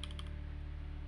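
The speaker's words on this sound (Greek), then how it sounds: "Το πληκτρολόγιο το συγκεκριμένο είναι μηχανικό." A Keychron C3 Pro mechanical keyboard gives a quick burst of several close, crisp keystroke clicks at the start, then falls quiet over a steady low electrical hum.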